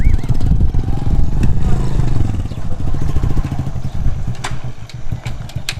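A motorcycle engine runs steadily and loudly up close, with a throbbing mid-pitched idle and clattery mechanical rattle, plus a few sharp knocks near the end.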